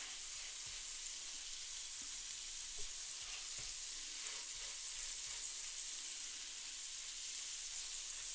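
Burger patties for a green pepper burger frying in a pan give a soft, steady sizzle and crackle, faint and continuous with no voices over it.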